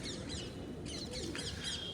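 Pigeons in a loft give brief chirps and soft calls close by over a low background rumble.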